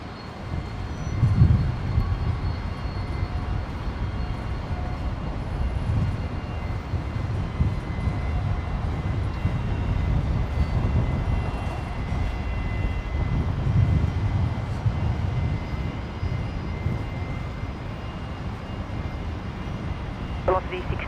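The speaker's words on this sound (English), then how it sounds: "Rex 5738, clear for takeoff, runway 19 right, the Saab heading to Roma." A Rex Saab airplane takes off from runway 19 right at Brisbane International Airport, a distant, sustained engine roar that swells gradually under ongoing talk.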